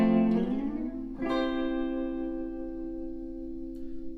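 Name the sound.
guitar playing a chord slide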